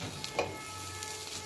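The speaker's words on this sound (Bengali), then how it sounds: "ফ্রাই প্যানে দিয়ে দিলাম সেদ্ধ করা মসুর ডাল" Boiled red lentils hit a frying pan, giving a faint, steady sizzle with a light stirring scrape near the start.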